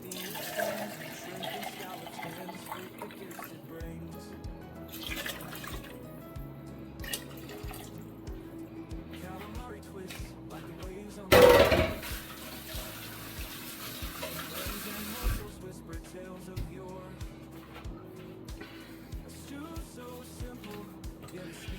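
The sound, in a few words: broth poured to rinse the can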